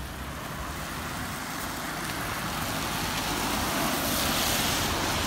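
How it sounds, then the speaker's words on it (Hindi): Rain pours outdoors in Oman, a dense, steady hiss that fills the whole scene and grows slightly louder toward the end, with no one talking. "अभी बारिश हो रहा है, बारिश अभी पूरा बारिश हो रहा है।"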